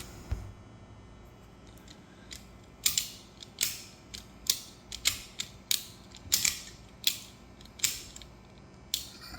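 A Newman roller frame for screen printing is tightened on a homemade stretching table, giving a run of sharp ratcheting clicks and creaks at a steady pace, close up and with no speech.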